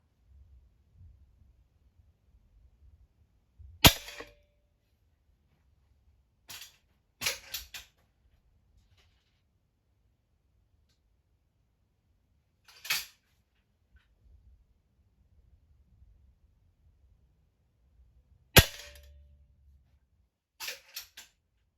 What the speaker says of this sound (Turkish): Şimdi kamerayı hedefin oraya koyup bir iki tane daha atış yapacağım.